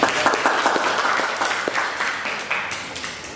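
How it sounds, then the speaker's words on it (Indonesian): Classroom applause for a student group: a room full of hands clapping steadily and fairly loudly for about three and a half seconds, with no voices over it. "tepuk tangan untuk kelompok 2."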